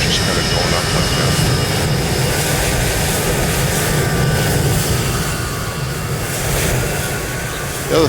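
An airplane takes off at Long Beach Airport in Microsoft Flight Simulator 2024, a loud, sustained engine roar with a steady whine layered on top, holding near and constant with no speech.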